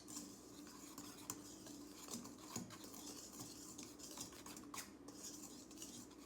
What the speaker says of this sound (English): And you want to kind of mix these together a little bit